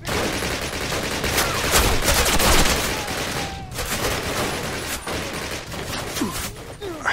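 A mounted machine gun fires in a Call of Duty campaign, with rapid, sustained bursts of gunfire that keep going with only short breaks. The shots are loud and dense.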